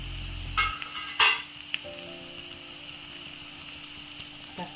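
Mushroom roast with grated coconut and chopped tomato is stirred gently in a pan: a couple of brief scraping stirs over a soft, low sizzle, nearby and quiet.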